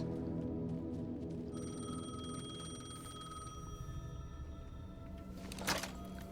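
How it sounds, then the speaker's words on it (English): A payphone ringing in the Alan Wake II video game, a repeated electronic telephone bell with sustained metallic tones that starts partway in and rings on under a dark ambient background, ending with a brief sharp burst. "The payphone was ringing."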